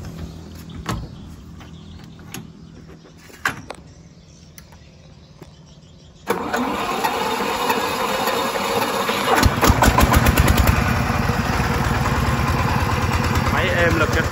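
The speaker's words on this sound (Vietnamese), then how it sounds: "làm lên đề cái máy" A diesel engine in a dual-axle dump truck with air brakes and an aftermarket exhaust cranks and catches midway, then settles into a loud, steady, rattling idle, with voices heard before it starts.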